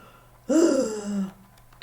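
A single voiced, breathy exhale imitating a tired puff, rising then trailing off, close and fairly loud, heard alone.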